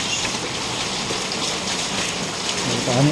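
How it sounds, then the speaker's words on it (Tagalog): Heavy rain pours down continuously during a flood, a dense close hiss of drops striking water and surfaces, steady for the whole few seconds with no talking. "Tuloy-tuloy pang ulan ngayon"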